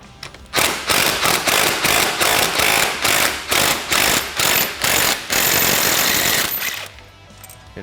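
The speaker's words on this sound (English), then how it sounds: "remove the nut off the bottom of the stud" A socket tool removes the nut from a tie rod stud on a Polaris RZR Pro XP, a loud, close series of about a dozen regular rattling mechanical bursts that merge into a continuous whir before stopping.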